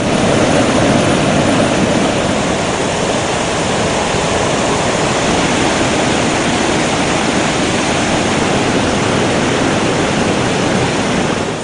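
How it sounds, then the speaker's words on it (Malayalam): A powerful waterfall swollen by heavy rain roars continuously and loudly over rocky terraces, a dense unbroken rush of falling water without any voices. "തട്ടുതട്ടായുള്ള പാറക്കെട്ടിലൂടെയാണ് വെള്ളം താഴേക്ക് പതിക്കുന്നത്."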